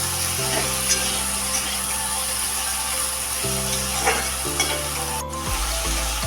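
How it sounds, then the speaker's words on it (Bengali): Chopped onions fry in a pan for an echor (green jackfruit) and prawn curry, a steady sizzle running throughout with occasional stirring scrapes and a low hum beneath. "পেঁয়াজ দেওয়া হলো কুচনো পেঁয়াজগুলো"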